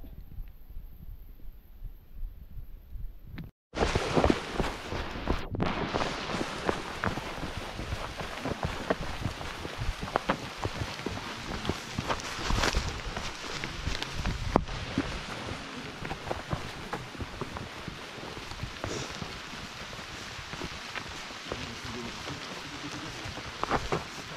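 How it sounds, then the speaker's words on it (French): Heavy rain pours down at the start of a 100 km trail race in the hills above Nice, a dense steady hiss and patter that begins abruptly after a quiet opening and continues unbroken near the microphone. "ça tombe épais. Ça tombe fort, ça tombe fort, ça tombe fort. La pluie va être là toute la journée."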